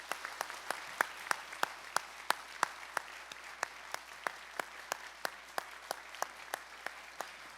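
Applause at a church certificate presentation for faith training graduates, a few hands clapping in a steady, evenly spaced rhythm of sharp claps over a faint, quiet background.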